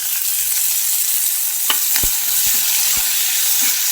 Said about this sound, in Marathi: कांदा छान परतलेला आहे याच्यामध्ये कढीपत्ता टाकून घ्यायचा तो पण हलवायचा लगेच टोमॅटो पण टाकून घ्यायचा